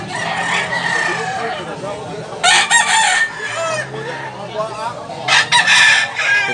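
A young Brown Grey gamecock (bullstag) crows a couple of times nearby in Talisay, Cebu, loud harsh calls standing out over a steady background of clucking and farmyard noise.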